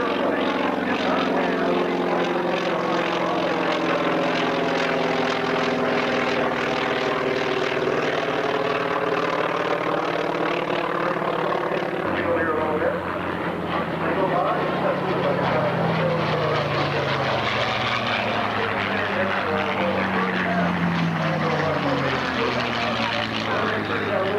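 A propeller-driven carrier aircraft flying past, a loud sustained engine drone whose pitch sweeps and shifts as it passes, with a voice talking over it.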